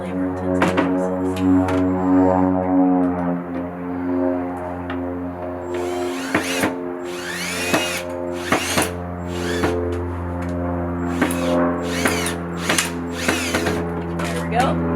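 Power drill boring into wood for a crafted star, running in steady whirring bursts with brief pauses and pitch changes, loud and close.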